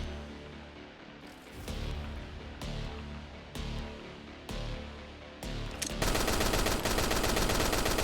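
Video-game gunfire with infinite ammo bursts out in repeated loud volleys with short gaps between them, then turns into one continuous, dense rattle of rapid shots toward the end.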